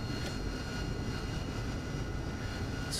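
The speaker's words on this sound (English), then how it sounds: "That's the Chinook taking off, I think." A Chinook helicopter taking off outside produces a steady, loud low rumble with broadband roar, constant throughout without voices.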